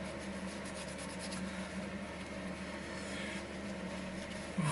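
A hand rubs polish over the plastic body of a Fujimi Ferrari F40 scale model, a faint continuous close rubbing hiss with a low background hum.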